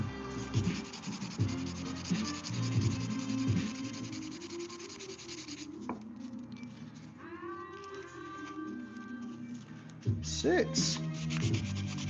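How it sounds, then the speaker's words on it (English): Close, steady sanding hums and rasps across a glued-up wooden cutting board, continuous under faint background music, with a brief spoken word near the start. "Want to get this guy sanded down though, get that glue out of here."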